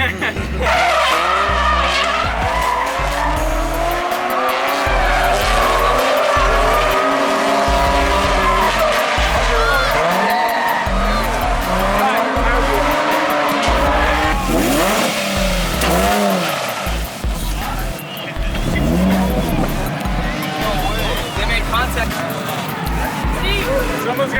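A drift car at a ridealong charity event slides with loud, sustained tire squeal and a revving engine close by. Crowd chatter and voices run underneath throughout.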